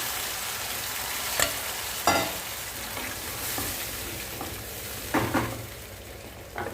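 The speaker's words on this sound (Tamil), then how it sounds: "கடுகு உளுத்தம்பருப்பு சேர்த்துருக்கேன் கடுகு வெடிச்சிட்ருக்கு இப்போது வத்த மிளகாவும் சேர்த்து வதக்கியிருக்கேன்" Mustard seeds, urad dal and dried red chillies sizzle and crackle steadily in oil at close range, with a few louder spatters and scraping stirs; no one speaks.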